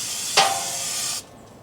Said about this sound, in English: if you have a sprayer, spray it.